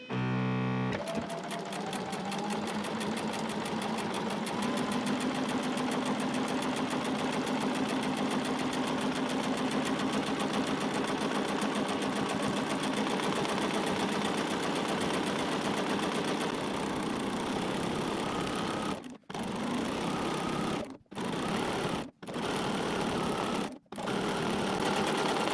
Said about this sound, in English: I'm going to stitch right on that line